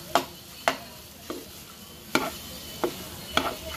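A spoon scrapes and stirs cooked rice into prawn pulav in a pot, six sharp irregular clinks and scrapes spaced through the stretch, close and fairly loud over a faint background with no talk.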